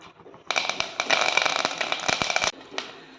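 Curry leaves and whole spices hit hot oil in a Tamil home kitchen as a soup is cooked, a loud broadband sizzle bursting in and crackling steadily for about two seconds before cutting off, with a brief second spurt near the end.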